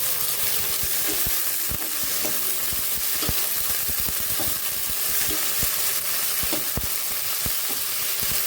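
Chopped broccoli sizzles steadily in a hot pan while being stirred, with repeated scraping knocks of the spoon against the pan over continuous frying hiss.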